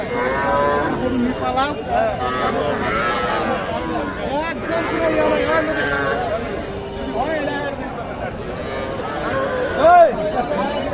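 Cattle mooing at a busy rural cattle market in Bangladesh selling young bulls and heifer calves, repeated low moos mixed with constant crowd babble and nearby talk throughout.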